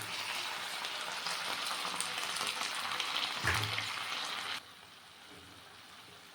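Lentils tipped into turmeric frying in a pan make a steady, close crackling sizzle that runs for several seconds and then abruptly drops to a much quieter simmer.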